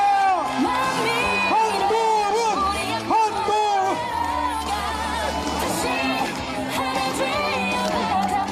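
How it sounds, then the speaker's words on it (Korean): Outdoor crowd at a Korean election campaign rally in Sejong cheering, whooping and yelling continuously, with a loudspeaker voice and background music mixed in. "계속 박수와 함성 부탁드립니다."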